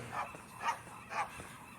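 Seagulls calling on a beach, a distant barking cry that sounds like a dog, repeated three times at even intervals, faint under the wind and ambient noise.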